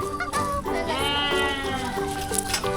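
Sheep at a farm bleating loudly and close, with long wavering cries overlapping one another amid constant background chatter from visitors feeding them.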